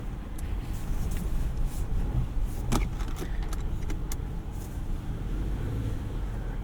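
A 2026 Subaru Outback Wilderness rolls slowly along an off-road course, a steady low rumble of engine and tyres inside the cabin, with scattered light rattles and clicks from loose items.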